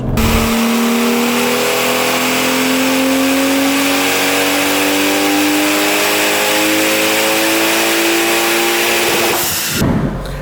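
A B58-swapped BMW E46 Touring with a stock turbo revs through one long, loud full-throttle sweep on a dyno, its engine note climbing steadily in pitch before cutting off abruptly near the end.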